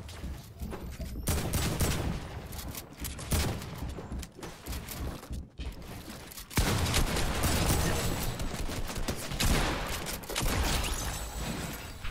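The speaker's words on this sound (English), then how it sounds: "I have to take on two people firing at me." Fortnite battle with two players firing, heard as loud sustained bursts of rapid gunfire that briefly pause and resume, with occasional shouted talk over the shooting.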